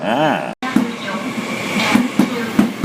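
A Trenitalia Frecciarossa high-speed train pulls into a station, with loud rolling rail noise and hiss and a brief dropout near the start, and several rhythmic clunks from the wheels crossing joints toward the end.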